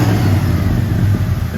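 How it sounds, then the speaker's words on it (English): 1985 Ford F250 Lariat 4x4 pickup engine revving up close and loud, a deep throaty roar with rumbling low pulses holding steady throughout. "One more time, because she likes to rev it up."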